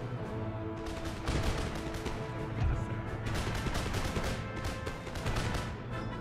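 Rolling musket volleys crackle from massed line infantry during a large Empire: Total War siege battle, dense overlapping shots and crashes sustained throughout at moderate loudness.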